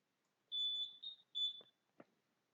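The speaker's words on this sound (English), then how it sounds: "just like a little beep on the button" Short electronic beeps from a race timing gate as it is switched on: two to three close, steady high tones, followed by a couple of faint clicks.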